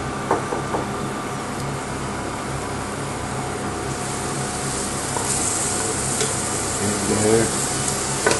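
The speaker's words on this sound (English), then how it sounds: "Get that sizzle happening." Steady sizzling of onions frying in hot oil, continuous and close, with occasional stirring scrapes and faint clatter.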